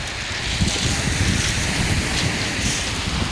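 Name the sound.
strong sea waves at Etretat promenade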